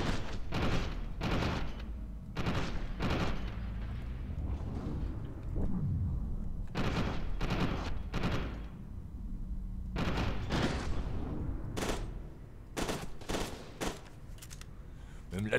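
Gunfire in the video game Fear 2 Project Origin comes as repeated sharp bursts and single shots, loud and close, with a game-noise background between the volleys.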